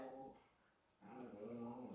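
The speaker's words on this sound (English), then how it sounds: "do you hear my dogs in the kitchen? They're fighting." Dogs fighting in a kitchen make faint, drawn-out whimpering whines and yips, first a short cry, then a brief lull, then a longer whine.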